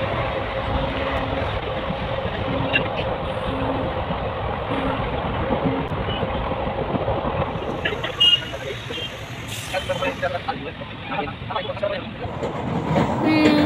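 Train carriage interior on an overnight rail journey, a steady rumbling roll with continuous low running noise and occasional clunks, heard from inside throughout.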